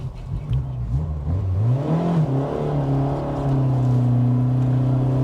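A Tofaş Kartal 1.6 i.e. car engine revs up uphill, its pitch rising and climbing steadily as it pulls, then settling into a loud sustained drone, close by.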